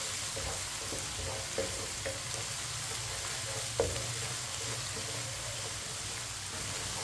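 Crushed ginger and garlic sizzle steadily in a hot pan while being cooked for a couple of minutes, a continuous crackling hiss with occasional soft clinks of stirring.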